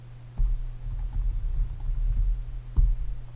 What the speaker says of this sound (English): I can type stuff